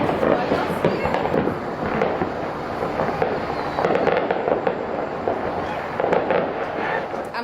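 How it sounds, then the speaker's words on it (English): Dense New Year's Eve fireworks bursting outdoors, a continuous crackling barrage of bangs and pops at moderate distance, with voices faintly mixed in. "Look at all them fireworks."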